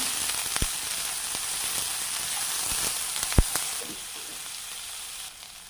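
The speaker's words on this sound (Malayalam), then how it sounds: "ചെറുതായിട്ട് അരിഞ്ഞ ഒരു സവോള ഇനി ഇതൊന്നും നമുക്ക് വഴന്ന് കിട്ടണേ" Finely chopped onion sautéing in a pan for parippu dal gives a steady sizzle and hiss with a few sharp clicks and pops, fading slightly at the end.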